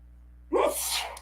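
A single sharp human sneeze, close and loud, rising abruptly out of quiet room tone and trailing off within a second.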